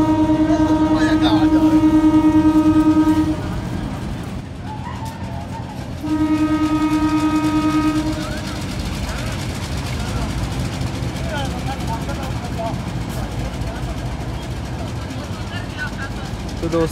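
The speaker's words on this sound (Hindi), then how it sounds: "तो दोस्तों तकरीबन 4 मिनट रुकने के बाद PH 28301 लेकर बढ़ गया 17 मिलत एक्सप्रेस को।" Diesel locomotive PH 2801 pulls the 17 Millat Express out of Mandi Bahauddin railway station, sounding two long steady horn blasts over a rumbling engine, followed by continuous rolling rail noise and wheel clatter, with a voice talking over it.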